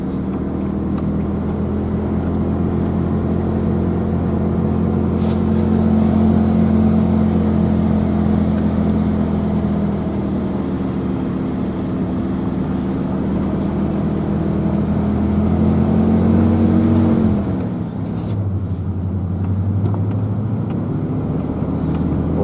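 A truck engine idles and runs steadily after a bearing repair, a loud continuous drone with a slight rise in pitch partway through before settling back down.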